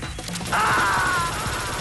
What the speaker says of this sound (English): Oh, break the glass.